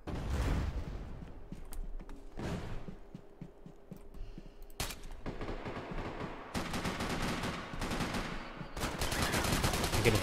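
Rapid gunfire in a Max Payne 3 multiplayer deathmatch, bursts of automatic and pistol shots crackling close and loud in repeated volleys over a dense game soundscape.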